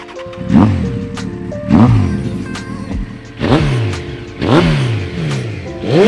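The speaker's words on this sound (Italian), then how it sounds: "Questa moto è la Honda." A Honda CBR 900 RR FireBlade with over 150,000 km is revved in five or six sharp throttle blips, each engine note rising and falling back, close and loud.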